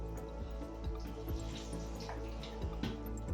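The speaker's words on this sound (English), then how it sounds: "first of all going to add the Chinese wine" Chinese wine poured into egg drop soup, a soft trickling liquid stream with small drips into the pot, close and steady, with no talk.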